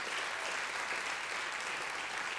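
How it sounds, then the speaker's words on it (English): A church congregation breaks into a steady, even wash of hand-clapping praise, sustained throughout at moderate volume with no speech over it. "Give the Lord a hand clap of praise if you believe that."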